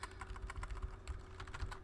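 Computer keyboard arrow keys tapped rapidly and repeatedly while playing Pong on a PC, a close, continuous patter of clicky keystrokes with no talking.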